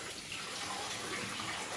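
Soaked raw white rice being washed in water, a soft continuous splashing and running-water wash, close and quiet with no talk.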